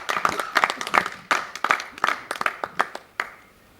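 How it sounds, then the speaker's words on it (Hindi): An audience at a Pakistani stage drama theatre claps in sharp, rhythmic bursts that are fairly close and loud, then thin out to a few scattered claps. "बहुत सारी तालियां।"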